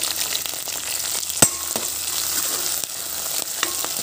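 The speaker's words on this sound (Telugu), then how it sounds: "దీంట్లోనే మెంతికూర వేస్తున్నాను చూడండి. మెంతికూర కొంచెం ఫ్రైగా అనేద్దామండి." Fenugreek leaves and curry leaves fry in a pan for a cabbage curry with a continuous loud sizzle, one sharp metallic clink from a spoon early on and a few lighter taps later, with no speech.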